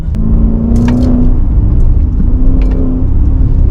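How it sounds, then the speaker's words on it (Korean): Maserati Levante Trofeo V8 revving, then RPM dropping with a characteristic falling burble; a loud, close engine rumble with brief higher-pitched rasps over it. "이 RPM 떨어질 때 뒤에 나오는 마세라티 특유의 약간 드로핑 사운드가 있는데"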